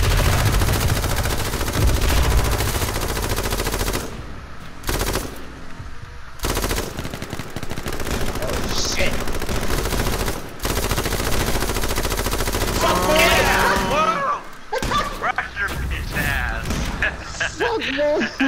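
Light machine guns fire in rapid, loud bursts during a battle royale round of the video game H1Z1, with brief pauses between volleys and players talking over the gunfire.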